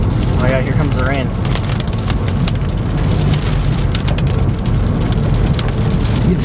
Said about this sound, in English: Oh yeah, here comes the rain.